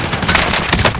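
Rapid bursts of automatic gunfire from Call of Duty Warzone rattle loudly and close in quick succession.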